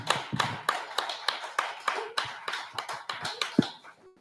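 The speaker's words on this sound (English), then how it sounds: "Everybody give Sharon a big round of applause." Audience applause for a presenter named Sharon at a crowdfunding pitch event, a brisk run of sharp claps about four seconds long that starts together and thins out toward the end, with no talking over it.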